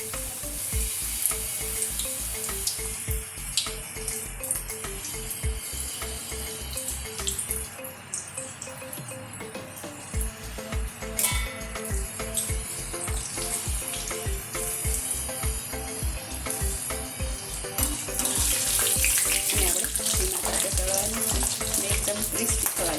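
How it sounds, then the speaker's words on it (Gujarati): Leftover roti pieces deep-frying in oil, giving a lively crackling sizzle with scattered pops and bubbling, plus occasional stirring clinks over a rhythmic low thumping in the background. "જો મિત્રો, આ તેલ મૂક્યું છે, જેમાં આપણે આ તળી લઈશું."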